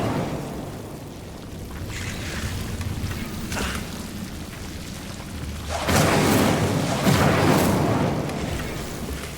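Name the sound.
Incendio fire spell effect in the video game Hogwarts Legacy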